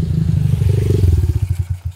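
Motorcycle exhaust fitted with an MBRtech A1CDI-R quickshifter, heard close and loud as a rapid run of popping bursts under a revving engine that breaks into distinct crackles as it winds down.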